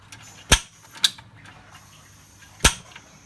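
The air vent on a gas popcorn machine is twisted open, giving three sharp metallic clicks, close and distinct against a quiet background.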